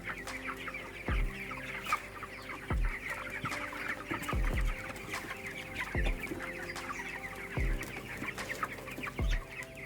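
A flock of broiler chickens clucks and chatters steadily, with regular low thumps every second or so underneath.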